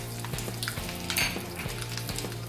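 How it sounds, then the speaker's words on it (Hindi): Cumin and mustard seeds crackle and sizzle in hot oil, a steady close frying hiss dotted with small pops and faint stirring clinks. "ये जीरा और राई क्रैकर होने लगी है।"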